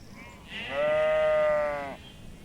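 Sheep or lambs on an Azerbaijani farm give one loud, sustained bleat lasting over a second, close to the microphone, against a quiet outdoor background.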